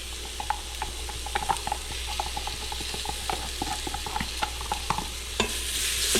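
Birria seasonings, tomato paste and garlic stirred in an Instant Pot, with a utensil scraping and ticking against the inner pot in quick, fairly even strokes over a soft sizzle.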